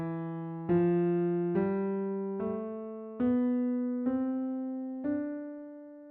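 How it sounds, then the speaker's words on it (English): Seven sustained, bell-like musical tones sound one after another, each struck note ringing and slowly fading before the next, stepping gradually upward in pitch in a steady sequence; they represent the tones of the celestial bodies. "The 7 tones, then, of the celestial bodies would sound like this"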